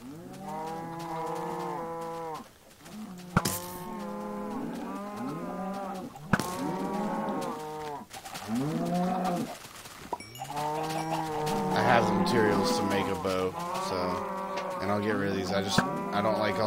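Cows in the video game Minecraft moo repeatedly near a player's house, several drawn-out lowing calls overlapping in steady succession, loud and close, with a few sharp clicks between.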